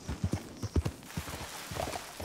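Horse hooves clip-clopping in Red Dead Redemption 2, a steady run of close, distinct hoofbeats that loosens and fades toward the end, with no talk over it.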